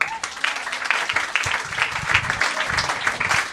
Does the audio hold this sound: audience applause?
yes